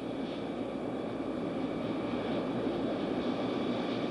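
Bell OH-58 helicopter rotor turning during a ground run, a steady, even whir and rumble holding at one level throughout with no voices over it.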